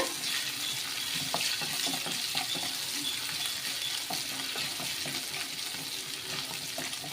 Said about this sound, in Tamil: தேங்காய் இப்படி சின்ன துண்டாக கட் பண்ணி ஆட் பண்ணிக்கோங்க நல்ல டேஸ்ட்டாக இருக்கும் கூடவே அஞ்சு கேஷ்நட் பிடிசாக கட் பண்ணி ஆட் பண்ணிக்கோங்க எல்லாமே நல்லா ஃப்ரை பண்ணி விட்டுக்கோங்க